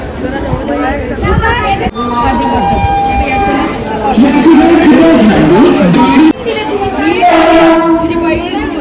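A train rumbles and clatters into a busy station platform near Mumbai, its horn sounding in long tones while a crowd of voices chatters throughout.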